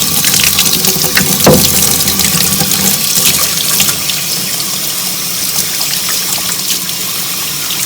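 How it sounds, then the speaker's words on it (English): A Rotax air filter is rinsed under running water, making a steady, close gushing splash that holds at an even level for the whole stretch with no talking. "Rinsing again from the inside out. And just kind of give it an overall rinse as well here."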